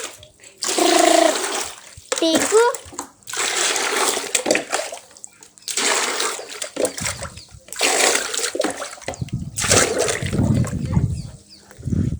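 Water pours and splashes into a bucket in bursts, with short pauses between pours and a low rumbling gush near the end.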